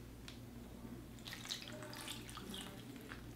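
Running water from a tap rinses dirt off a trashed sneaker, a faint steady splash with small spatters over a low background hum.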